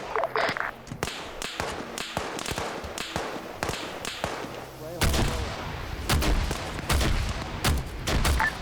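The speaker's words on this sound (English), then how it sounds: "They're dropping mortars on us." Mortar rounds land in a military shooter game set in Russia, sharp booming impacts repeating irregularly with heavier, denser blasts in the second half; faint radio voices sit underneath.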